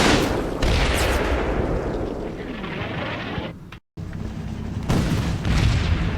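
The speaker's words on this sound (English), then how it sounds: "Nice, German tank just shot at them automatically as well." A German tank fires in Combat Mission, an Italian-campaign war game, with heavy booming blasts and dense rolling battle noise that stays loud throughout, a brief dropout midway, then renewed thunderous firing.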